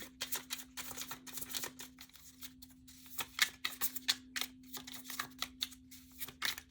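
Tarot cards shuffled by hand, a quick run of soft papery riffles and taps repeating in close bursts for several seconds over a steady low hum, with no talking.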